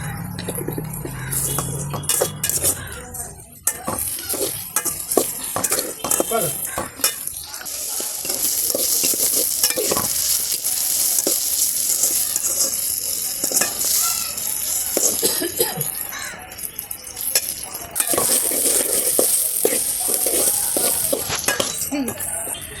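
Kashmiri chilli powder is stirred into sizzling biryani masala over a wood-fired stove. Frying crackles continuously while a spoon scrapes and knocks against the pot in a busy, close-up rhythm.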